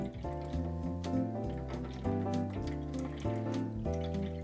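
Fever-Tree ginger beer is poured gently into a bowl of holiday punch, making a soft, faint trickle that sits under clear melodic tones from music playing in the background.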